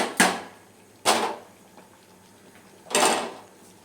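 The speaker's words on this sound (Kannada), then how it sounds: "ಇವಾಗ ಇದನ್ನ ಕುಕ್ಕರ್ ಮುಚ್ಚಳ ಹಾಕ್ಬಿಡೋಣ" Three sharp metallic clanks ring out with pauses between them as a pressure cooker lid is put on, in an otherwise quiet kitchen.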